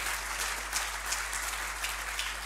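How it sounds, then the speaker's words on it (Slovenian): A conference audience gives sustained applause at the opening of INFOSEK 2016, a steady, even roar of many hands with a faint low electrical hum beneath. "tako da si on in celotno osebje podjetja Hit zasluži en velik aplavz"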